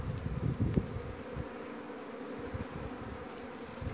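Honey bees at an apiary hive with a queen excluder between boxes, a steady low buzzing drone of many insects close by, with a few louder passes of individual bees near the start, no voices.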